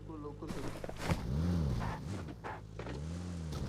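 A car engine in the video game PUBG, driven in boost mode, revs and climbs in pitch in smooth sweeps, heard close and steady beneath excited talking.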